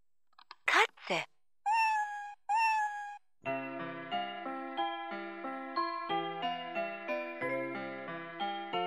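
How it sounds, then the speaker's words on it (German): Vtech Singspaß toy microphone from 2009 plays an electronic cat meow, two sharp bright calls followed by two sustained tonal meows, then a chiming toy melody begins. "Katze."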